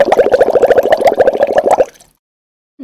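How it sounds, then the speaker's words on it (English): Bubbles popping in water as a rapid, even run of about twenty close, bright pops that stops abruptly and is followed by near silence. "the noise produced is a series of pop, pop, pop, pop, pop, pop, pop, pop, pop. And each pop represents one bubble."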